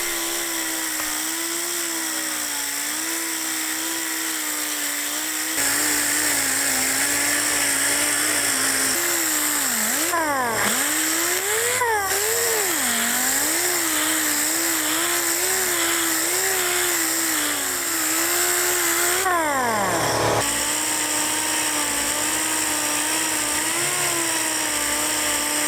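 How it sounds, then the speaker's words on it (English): Power sanding a rusted axe with a Norton Roll-Lock disc, moving from 60 grit up through finer grits: a loud, steady high-pitched whine that rises and falls in pitch as the disc is pressed and eased, running alone throughout. "Started out with 60 grit on the Norton Roll-Lock disc, then 80 grit on up to 800 grit for sanding."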